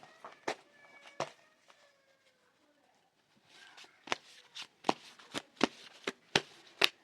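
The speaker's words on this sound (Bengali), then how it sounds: "ওকে, so Angel Oracle card reading করবো।" Angel oracle cards being shuffled, with a few soft riffles and quiet background tones at first, then a pause, then a run of crisp, close card slaps in a fairly regular rhythm.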